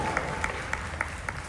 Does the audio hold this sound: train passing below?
no